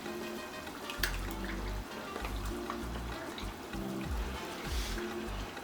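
Ginger and garlic blend is poured into hot onion and oil, giving a soft wet trickle and sizzle over a low background rumble, fairly faint and continuous.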